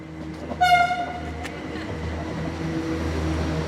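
A train at Rahumäe railway station gives a short, bright horn toot, then rumbles past in a steady, broad low roar that stays loud and near to the end.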